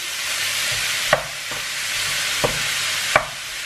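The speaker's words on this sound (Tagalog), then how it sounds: "Ipa-brown nyo lang ang inyong meat." Meat browning in a hot pan gives a steady, close sizzling hiss, broken by a few sharp clicks of a utensil stirring. No one speaks.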